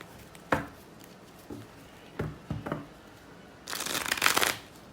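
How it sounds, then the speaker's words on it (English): A deck of tarot cards is shuffled: a few soft taps and riffles, then a longer fluttering riffle, quiet and close. "So let me just shuffle these."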